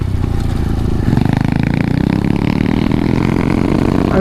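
A 125cc pit bike engine drones loud and steady while a dirt bike is ridden, holding a constant revving roar close by with no talk.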